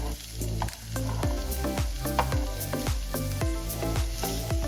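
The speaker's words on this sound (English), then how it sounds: "We are simply seasoning and warming up the asparagus here." Asparagus sizzles in a hot pan while being seasoned and warmed, a steady close frying crackle punctuated by regular rhythmic scraping or tossing strokes, with no talking.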